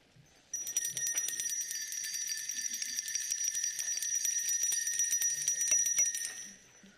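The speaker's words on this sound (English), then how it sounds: "please join me in ringing a bell as we acknowledge the importance of the founding of this document" Several small hand bells rung together by council members at a meeting, a bright continuous jingling clang that starts abruptly and carries for about six seconds before fading, fairly faint in a quiet room.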